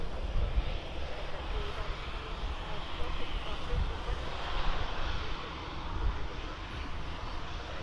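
A Boeing airliner at Birmingham Airport produces a continuous broad roar of aircraft engines that stays fairly even across the whole stretch, with faint voices underneath.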